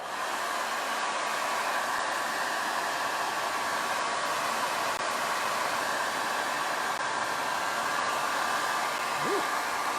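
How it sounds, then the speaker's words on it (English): A hair dryer blows steadily on wet paint on a paper craft tiki mug, a constant loud airy whoosh with no pauses for the full stretch. "So I'm going to go ahead and dry this real quick."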